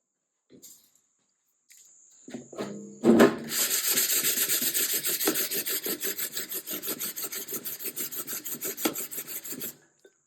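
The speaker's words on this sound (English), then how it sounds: "I'm just knocking down the rough edges" Steady rhythmic rasping of a file scraping back and forth over the rough edges of a drilled hole in a metal ammo box, close and continuous for several seconds after a few initial knocks.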